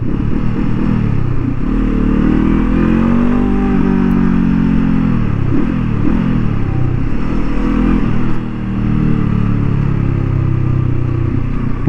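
A 2023 Honda CL 500 motorcycle on a racing track burbles steadily at low pace, its deep exhaust rumble loud and close with gentle rises and falls in revs throughout, no voices over it.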